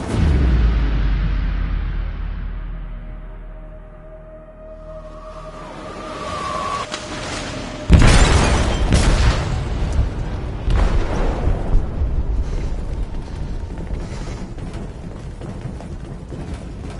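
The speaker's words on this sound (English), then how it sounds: "They detonated an explosive in the hold. The ship is sinking, sir." An explosive detonates in a ship's hold in the game Detroit: Become Human: a fading low rumble, then a sudden loud close blast followed by sustained crashing and roaring debris noise, with no talk.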